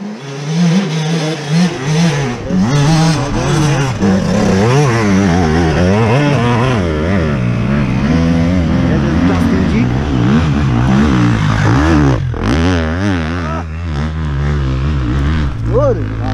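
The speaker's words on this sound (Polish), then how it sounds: "Jak ten motor tam się drze." An enduro motorcycle engine roars and revs continuously at close range on a hill climb, its pitch rising and falling repeatedly, with voices faintly mixed in.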